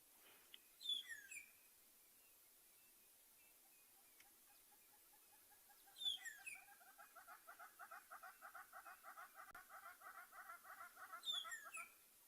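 Magpie shrike calling from a corkwood tree on a South African morning safari, clear whistled phrases repeated in bursts, faint and somewhat distant, with a soft trilling chatter in between and no talk.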